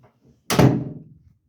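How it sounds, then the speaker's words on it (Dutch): A bedroom door swings shut with a single solid thunk, loud and close, its low boom fading quickly into silence after a few faint shuffles. "Ik ga even mijn deur dicht doen."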